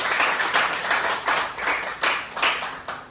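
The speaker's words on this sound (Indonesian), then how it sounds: "kita berikan aplaus untuk yang jawab" Students in a tenth-grade high school classroom clap in rhythmic, fairly quick applause, roughly two claps per second, close and moderately loud with no talk over it.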